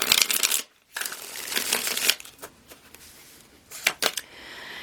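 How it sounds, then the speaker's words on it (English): Tarot cards being shuffled in bursts of crisp riffling and soft slapping, close and fairly quiet, with a short silent gap and a few sharper flicks near the end. "One more shuffle."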